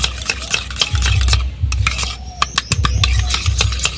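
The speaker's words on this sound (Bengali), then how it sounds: "টক দইটাকে খুব ভালোভাবে ফেটিয়ে নেব।" A spoon or whisk beats sour yogurt in a steel bowl, making rapid, rhythmic metallic clinks and scrapes in close bursts with a brief lull midway.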